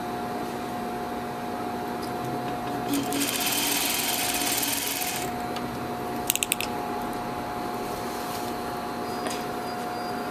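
A sewing machine stitches fabric for an infinity scarf with a steady mechanical whir and drone throughout, a louder run of stitching in the middle, and a few brief clicks of fabric handling near the machine.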